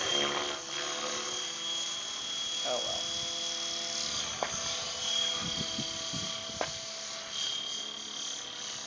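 A Fusion 50 radio-controlled helicopter in flight, its steady high-pitched whine and buzzing rotor drone running continuously at moderate distance, with voices talking over it.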